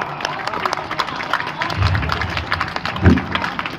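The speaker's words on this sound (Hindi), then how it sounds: "तालियां कमजोर है साहब।" Audience applause at a recitation by an eight-year-old boy in Bundelkhand, modest scattered clapping with crowd murmur and a few louder swells, under ongoing voices.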